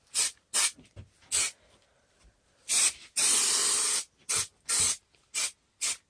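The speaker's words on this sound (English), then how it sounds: "now we're just going to spray some more spray adhesive along there, just to neaten all this up" Spray adhesive hisses from an aerosol can in a series of short, sharp bursts, with one longer spray in the middle, close by and alone against quiet pauses while building a bass trap.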